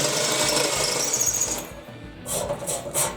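A drill grinds the head off a bolt while removing a front-mount Cub Cadet PTO clutch. A loud, steady whine runs up close, then cuts out and gives way to a few short, separate bursts.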